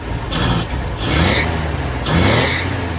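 Engine of a 1942 Dodge truck with a freshly tuned carburetor, revving close up in three loud, quick throttle blips that climb and drop back to idle.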